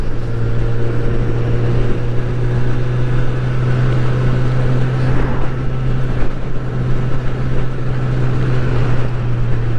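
A 2022 Honda CB1000R Black Edition motorcycle is ridden, heard as a steady engine drone mixed with heavy wind rush from the rider's position, continuous and loud throughout without talk.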